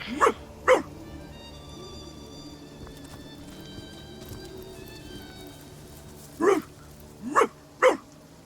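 An undead zombie dog in the role-playing game Divinity: Original Sin barks twice, goes quiet over a low ambient hum for several seconds, then lets out three more sharp, rasping barks in quick succession.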